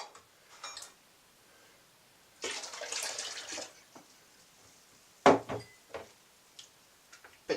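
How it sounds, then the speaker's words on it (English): Yeast stirred into mead must in a fermenting vessel, giving soft liquid swishes and a few sharp clinks of the stirrer against the container, close and intermittent with quiet gaps. "So just give this another quick bit of a stir. Yeast gets a good stir."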